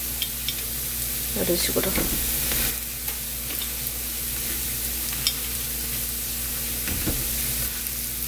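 Takoyaki sizzling steadily on a hot takoyaki pan, with brief scraping clicks as the balls are turned and shifted toward the hotter side of the flame, while someone speaks briefly over the frying.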